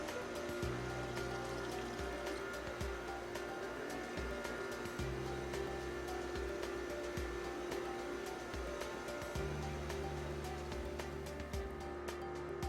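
Water runs steadily from the outlet of a MyCelx oil removal system into a sample container, a continuous splashing flow with a low mechanical hum beneath it.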